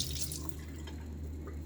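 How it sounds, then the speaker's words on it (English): Cold water runs steadily from a sink tap, a continuous soft splashing rush at close range, with no talking. "Cold water if I just use the cold tap."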